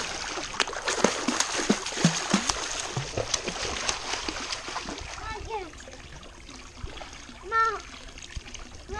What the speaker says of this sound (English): Is Dad putting some water in the pool?